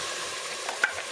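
Green masala paste frying in hot ghee in a pan for prawn biryani, a soft steady sizzle with a couple of brief stirring scrapes near the end.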